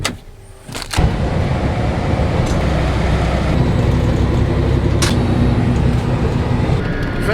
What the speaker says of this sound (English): Taking a truck to town.